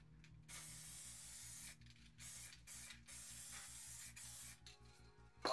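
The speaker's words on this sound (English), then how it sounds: "I'll just spray a sliver here." Montana Gold crackle effect spray paint hisses from the can in long bursts separated by brief pauses, close and steady, over a faint low mechanical hum.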